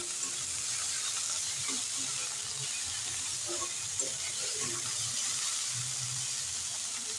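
Vegetables and egg for chowmein frying in a pan, a constant soft hissing sizzle with faint stirring clatters underneath, steady throughout and without talk.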